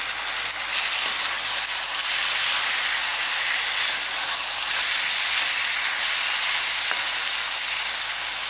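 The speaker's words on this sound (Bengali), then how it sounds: "সানরাইজের গরম মশলা দেবো, দিয়ে এটাকে ভালো করে নাড়বো।" Vegetarian pumpkin and chickpea curry, just seasoned with Sunrise garam masala, sizzles and fries in the pan as it is stirred: a loud, continuous, close hiss with no voices.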